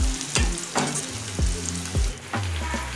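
Chillies and onion frying in a pan for an okra bhaji, a crackling sizzle punctuated by about five distinct spatula stirs at irregular intervals. The sound is close and clear, with no talking.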